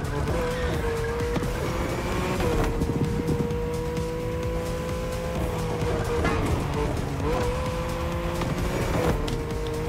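A Porsche 911 in The Crew Motorfest racing game revs and accelerates with a loud engine whine that rises and falls through gear changes, steady and close throughout.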